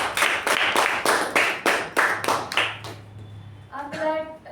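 A small audience at a Toastmasters club meeting gives a round of rhythmic clapping, about a dozen close, regular claps that die away before a voice speaks briefly at the end.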